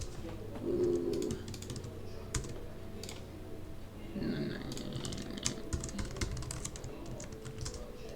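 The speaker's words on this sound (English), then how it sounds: "Sorry for all the typing." Typing on a computer keyboard, a steady run of quick close clicks and taps, continuous through the whole stretch against a low background hum, with brief vocal sounds mixed in.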